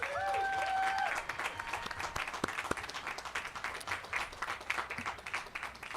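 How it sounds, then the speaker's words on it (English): A crowd at a high school graduation ceremony for the class of 2022 applauds the graduating class, steady broadband clapping filling the whole stretch, with brief whistle-like tones early on. "I think that deserves a big round of applause because these graduates deserve it."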